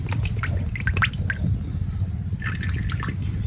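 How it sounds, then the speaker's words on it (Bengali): Oil is poured into a hot wok (kadai) with a thin liquid trickle and scattered drips, heard close over a steady low rumbling hum. "কড়াই গরম হয়ে গেছে, তেল দিয়ে দিই"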